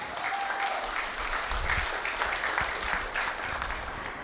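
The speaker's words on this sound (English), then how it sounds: "a big round of applause for the team of Aztec" A steady round of clapping from a sizable crowd at a company listing ceremony, dense and continuous throughout with no voices standing out.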